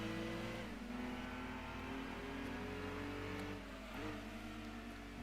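A DB-7 car engine racing in Gran Turismo 2, a 5-speed car revving steadily with rising pitch, a gear change near the end and continuing acceleration, heard alone at a moderate level.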